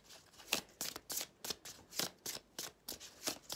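Tarot cards are shuffled by hand in quick, evenly spaced riffling bursts, about three per second, soft and close with no voices.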